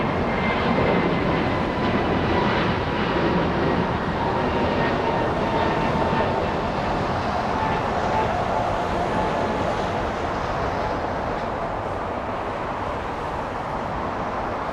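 An American Airlines jet departs LAX bound for Philadelphia, its engines giving a loud, steady roar that slowly fades over several seconds, with no one talking.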